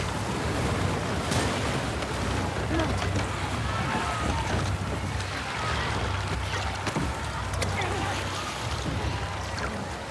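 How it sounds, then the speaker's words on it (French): A boat being rowed across open water in The Last of Us Part II, with steady lapping waves and wind throughout and faint splashes of oars, under game ambience. "C'est vraiment on y va à la rame?"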